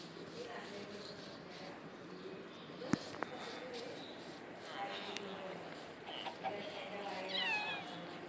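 Cats meowing at a cat-only spawner in a Minecraft-style let's play, with short mews and a rising cry near the end over a steady game background hum.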